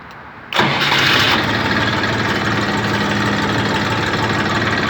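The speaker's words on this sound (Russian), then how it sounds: "Легко запускается, двигатель очень легко запускается." A Saturn ST2501 Chinese mini tractor engine starts abruptly from near silence and runs on at a steady, loud, close idle with a busy mechanical clatter, and no voices are heard.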